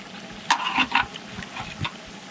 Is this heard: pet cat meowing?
no